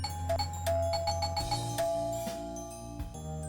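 A soft, elegant doorbell chime from a visual novel video game rings out in a series of bright tones over a gentle music backdrop.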